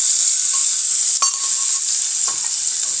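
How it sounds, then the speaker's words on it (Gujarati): Ginger-chili paste sautés in hot oil in a pan for parathas, a loud steady sizzling hiss with a brief clink of a spoon partway through and no talking. "આદુ મરચાંની પેસ્ટ છે તે ઉમેરી દીધી છે। તો સરસ રીતે તેલમાં સતળાઈ ગઈ છે।"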